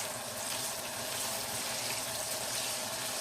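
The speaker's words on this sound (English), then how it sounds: "that bacon is starting to fry." Bacon sizzling in a pan as the last water cooks off, a steady dense hiss and crackle heard close and alone, with no talk over it.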